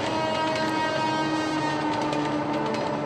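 A train rolls past houses built right beside a railway track, a loud, steady rumble of wagons with tonal ringing from wheels or horn that holds throughout, close by and without speech.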